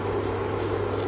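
Kitchen oven just switched on, giving off a steady high-pitched cricket-like chirping whine over a low continuous hum, constant and unbroken.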